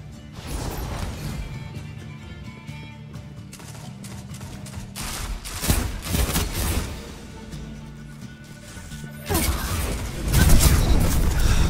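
Heavy-weapon gunfire in Destiny 2 on PC, several loud bursts of booming, crashing shots separated by quieter gaps, with the biggest blasts near the middle and end.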